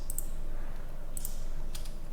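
A few computer keyboard keys are pressed during After Effects work, producing sparse, crisp clicks in two small clusters over a quiet background hum.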